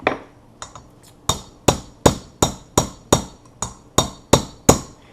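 A part is tapped with a hammer into the cylinder head of a Yamaha TTR90 during a top-end rebuild, giving a steady series of about a dozen sharp metallic taps, close and crisp, with no talking.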